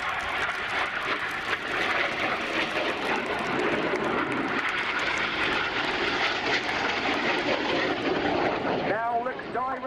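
Synchro pair display jets roar past at an air show, a loud, sustained broadband rush that stays heavy throughout before changing near the end, with crowd and commentary voices faintly underneath.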